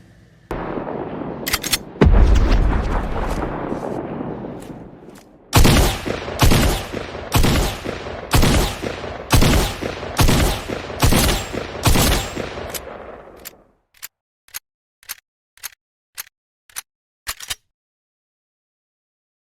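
Rapid gunfire from a weapon in Fortnite: a dense opening burst, then a steady train of loud, evenly spaced shots, thinning to a few sharp single cracks with silence after.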